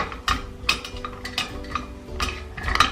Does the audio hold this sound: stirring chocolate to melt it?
yes